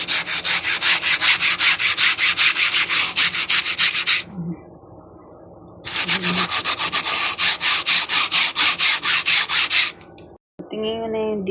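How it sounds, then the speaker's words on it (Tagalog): Foam cleaner is scrubbed vigorously into a surface in fast rhythmic back-and-forth strokes, loud and close. There are two long bursts separated by a brief pause, then a short final stretch. "Tapos, i-scrub nyo lang siya."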